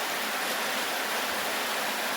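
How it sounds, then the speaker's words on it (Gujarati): Steady, gentle rain falling over a farm field on a windless day, a continuous soft hiss with no distinct drops standing out, heard alone without voices. "આજે વરસાદ સારો આવી ગયો છે"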